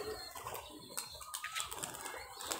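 Giribaz pigeons, a Rajshahi local breed, flap their wings up close in a series of quick, fluttering bursts over a steady, busy background.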